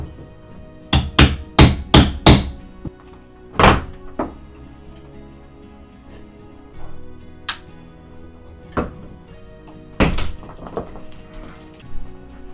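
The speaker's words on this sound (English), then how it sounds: "Stick one end in there, and hammer it in. Pull out the nails really easy." A hammer drives a cat's claw nail puller into wood while pulling nails during basement wall demolition. A quick run of four loud, sharp strikes is followed by scattered single heavy blows with quiet gaps between them.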